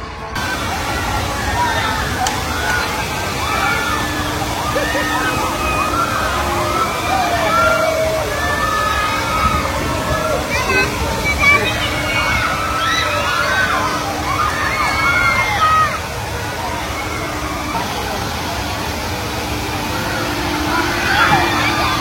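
Water sloshes and splashes continuously on a water ride at the Fun World amusement park in Bangalore, with a loud crowd babble and people talking over the steady rush throughout.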